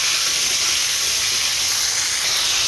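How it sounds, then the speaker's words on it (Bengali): Cauliflower frying red in oil in a pan, a loud, unbroken hissing sizzle held at a steady level throughout, close up and alone. "আর ফুলকপিটা আমি আলুর মতো করে লাল লাল করে ভাজি করে নিচ্ছি।"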